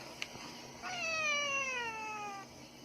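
A single drawn-out, downward-sliding meow from a cat wanting food, close and clear over a quiet room.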